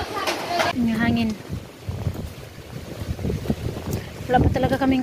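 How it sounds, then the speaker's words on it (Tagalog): Strong wind blows outdoors during a blackout while mangoes fall. It rushes and buffets the microphone in steady gusts. People talk over it at times. "Yung hangin."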